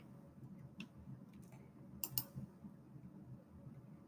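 Two sharp computer mouse clicks close together, near and fairly faint, standing out over a low background hum while someone saves a payment provider setting in booking software.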